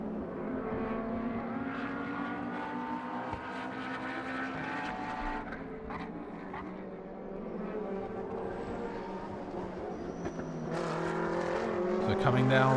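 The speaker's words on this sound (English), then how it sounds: "You've got the Lamborghini, you've got the Ferrari and the McLaren, 3 different car makes, neck and neck, fighting hard here." GT race cars, a Lamborghini, a Ferrari and a McLaren, racing closely at the Inje circuit, scream with high, layered engine notes that shift with gear changes, growing louder toward the end, under continuous commentary.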